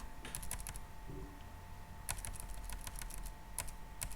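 Someone types a word on a computer keyboard in quick bursts of close key clicks, with a brief pause between the bursts and no talking.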